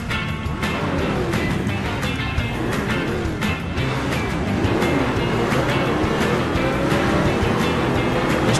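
Splashing water effects mixed with engine noise in the Beach Buggy Racing video game, a steady broadband wash of surf-like spray and motor hum running continuously throughout at a fairly loud level.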